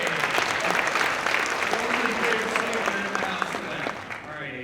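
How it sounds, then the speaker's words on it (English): Audience applause after a documentary screening during the Q&A, a full room clapping steadily and fading toward the end, with talk mixed in. "let's give a round of applause for Avery"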